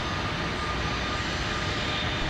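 An airliner engine roars steadily and loudly at MSP airport on a winter day, a dense continuous rumble heard up close with no voices.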